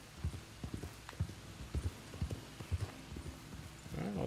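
Horse hooves clip-clopping in Red Dead Redemption 2, an irregular walking gait of soft thuds, fairly quiet, with a faint low rumble rising near the end.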